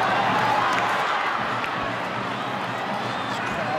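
Stadium crowd at a 2019 NRL rugby league match between Parramatta Eels and St George Illawarra Dragons, a steady, dense roar and murmur of many spectators filling the whole stretch without breaks.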